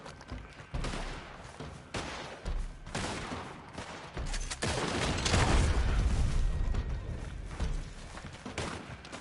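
A shotgun fires repeatedly in the Red Dead Online video game, producing several heavy booming shots with crackling tails, separated by short gaps, the loudest and densest around the middle.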